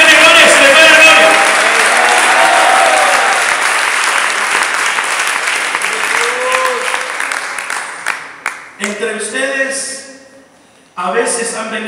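A church congregation claps loudly in sustained applause that gradually fades, with voices mixed in throughout, before a man starts preaching over the last of it.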